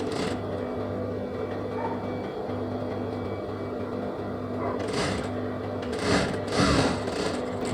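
A sewing machine stitches pleats into a patiala pant, its steady mechanical hum running without pause, with a few brief handling noises near the end and no one talking.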